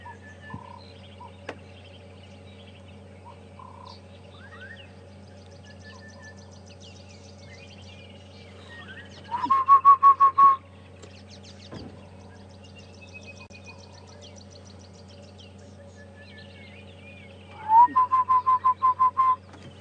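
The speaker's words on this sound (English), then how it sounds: "A beautiful chorus of different birds calling this morning." Wild birds call on a morning safari drive at the Djuma and Arathusa reserves: scattered chirps and whistles over a quiet background, with two louder bursts of rapid trilling calls standing out near the middle and end.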